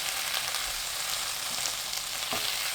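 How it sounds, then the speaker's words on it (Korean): Zucchini and salted pollock roe stir-frying in a pan over high heat: a loud, continuous sizzle and crackle, with a brief knock of the spatula partway through and no talking. "명란젓 넣고 센 불로 볶아주세요"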